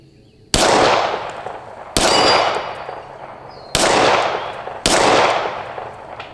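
Four sharp gunshots from an ATI FXS 9 fired at a target, spaced irregularly over several seconds, each a loud close crack with a ringing decay.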